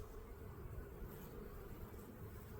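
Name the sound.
honeybees buzzing at hive during spring check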